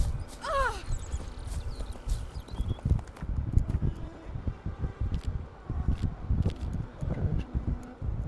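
Steady horse hooves clip-clop at a walking pace in The Witcher 3, close and continuous, with a brief whinny-like call near the start.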